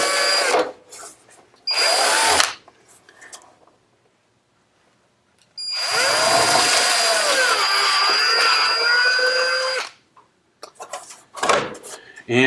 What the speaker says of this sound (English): We've marked the locations for our top hardware mounts, so now we will drill them into the frame sheet.